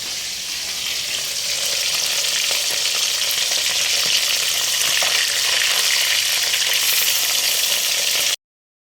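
Mustard seeds tempering in hot oil, with a chopped green chilli nearby, for a spicy Bengali ghonto. A loud, steady, close sizzle hisses without a break for about eight seconds, then cuts off abruptly.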